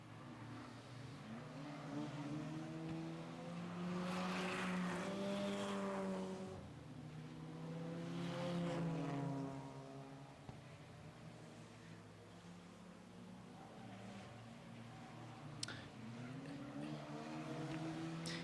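Four-cylinder compact race cars roar around the Grand Bend Speedway oval, engine notes rising and falling as the pack passes, moderately distant and steady with no talk over them.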